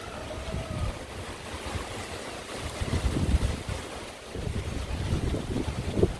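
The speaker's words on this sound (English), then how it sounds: "the wind's picked up quite a lot actually" Strong Hurricane Dorian wind in Orlando buffets the microphone in continuous low roaring gusts, rising and falling, with a few louder surges and no voices.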